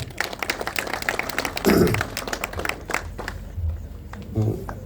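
An audience claps for a presenter at a commercial property launch for a market project in Sector 114. The applause is uneven and moderate, with a voice speaking over parts of it.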